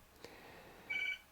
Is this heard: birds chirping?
no